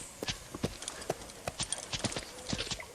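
Horse hooves clip-clop at a ranch in a steady, uneven rhythm of sharp, moderately close impacts, about a dozen strikes over a few seconds with no talking.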